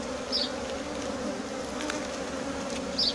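Bees buzz in a dense, steady drone from an opened beehive during an inspection of a new swarm, close and continuous, with a few brief higher whines from individual bees passing nearby.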